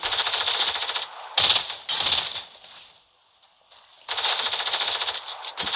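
Rapid automatic gunfire from a video game in several loud rattling bursts, with a near-silent pause in the middle before another long burst.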